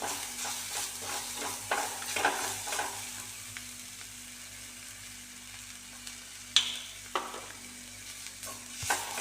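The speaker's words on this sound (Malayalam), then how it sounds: "ഇനി ഇതിനെല്ലാം കൂടി ഒന്ന് നമുക്ക് നന്നായി വഴറ്റിയെടുക്കാം" Kashmiri chilli powder, garam masala and spices sautéing in a frying pan, a faint soft sizzle broken by intermittent spoon stirs and sharp scrapes against the pan.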